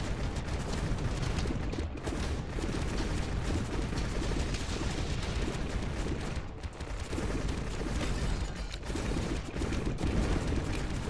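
Explosion punch attacks from the video game God Of Weapons pound away in a dense, continuous barrage of booming blasts, loud and close, with no talking over them.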